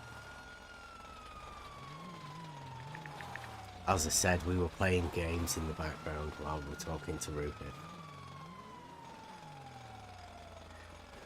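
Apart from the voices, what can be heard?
police siren from a video game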